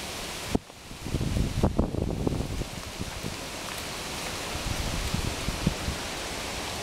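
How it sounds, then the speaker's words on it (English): Strong wind gusting outdoors at a minimalist camp shelter, a loud continuous rushing roar with wind buffeting the microphone and one thump near the start. "Really good wind."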